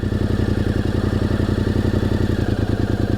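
A motorcycle engine idles steadily while the rider holds the bike on the clutch and rear brake, a close, even, rapid pulsing throb that runs throughout with no talk.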